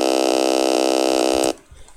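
A buzzy FL Studio 3x OSC synth tone plays a loop of four repeated notes at steady pulse, bright and loud, then cuts off abruptly into near silence.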